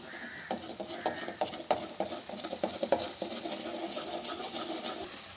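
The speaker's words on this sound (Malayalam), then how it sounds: "അതിലേക്ക് കുറച്ച് ഉപ്പും കൂടി ഇട്ട് കൊടുക്കാം. നല്ല രീതി ഇളക്കി കൊടുക്കാം." Egg and salt stirred in a pan for drumstick egg thoran, a close run of rapid scraping and clinking strokes from a utensil against the pan, with a light sizzle beneath.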